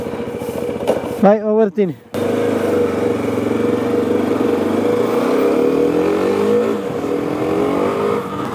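A fully loaded touring motorcycle accelerates and holds a steady droning engine note while riding, its pitch gradually rising and shifting through gears after a brief spoken goodbye and a short muffled patch.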